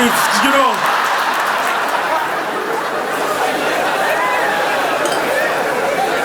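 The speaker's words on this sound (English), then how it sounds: "Thank you again for your applause." Audience at a stand-up comedy show applauding, a steady broad wash of clapping mixed with chatter and some laughter, filling the hall for several seconds.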